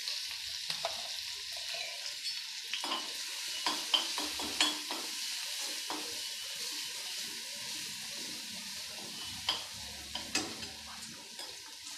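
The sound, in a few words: chili paste sizzling in hot oil while stirred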